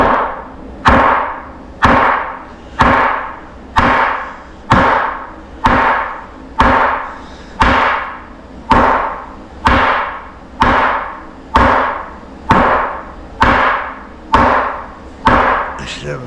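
A sledgehammer pounds knee wall framing in a steady run of about seventeen loud, evenly spaced blows, each a sharp crack with a short ringing decay, close by and with no talking.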